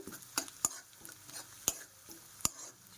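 Onions with a pinch of turmeric frying in a pan, a low sizzle punctuated by five or six crisp scrapes and taps of a spatula against the metal, close up.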